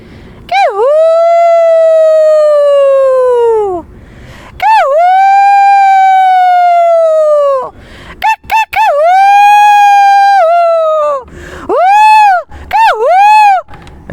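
A voice gives several long, rising-then-falling howls in sequence, ending with shorter yelping calls, imitating a jackal, loud and close.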